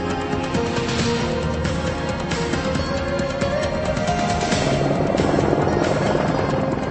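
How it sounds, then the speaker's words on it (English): An AH-64 Apache twin-engine attack helicopter: a loud, continuous rotor and turbine drone with steady chopping blades, close and unbroken for several seconds. "these battle choppers are outfitted with two engines in case either one should be knocked out"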